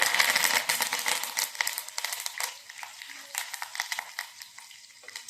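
Cumin seeds, a single dried red chili and curry leaves hit hot oil for a mango pickle tempering, bursting into a loud crackling sizzle that gradually settles into quieter, sparser pops.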